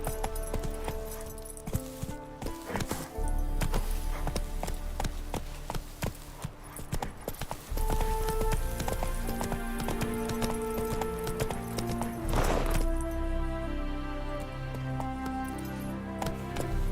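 Roach the horse galloping in The Witcher 3, rapid rhythmic hoof clip-clop running steadily under game music and ambient tones, loud and continuous throughout.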